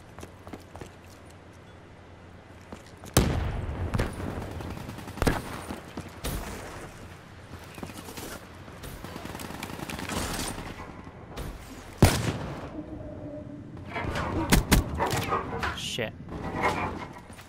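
Underwater gunfire in Call of Duty Black Ops III comes as irregular muffled bursts and thumping shots, loud and close, with quieter gaps between volleys and a voice talking over parts of it.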